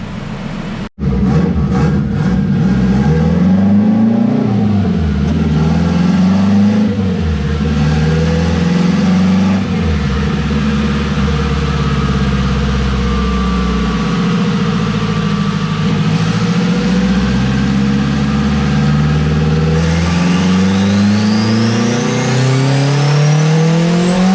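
A turbocharged Honda Civic with a K20A2 engine revs hard on a dyno, loud and close, with repeated rising and falling pulls, a sharp bang near the start and a long sweeping climb toward the end.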